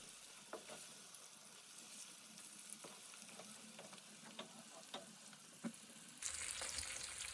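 Chicken frying with spices and browned onions in a pan for Hyderabadi chicken korma, a soft steady sizzle with occasional sharp clicks of a spoon stirring, faint and close, swelling louder near the end.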